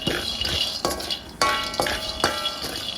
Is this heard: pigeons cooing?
no